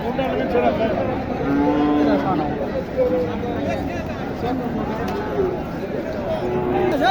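Cattle, including Nepali and Sahiwal bull calves, moo repeatedly amid a busy livestock market, low drawn-out calls mixed with overlapping chatter of many people nearby.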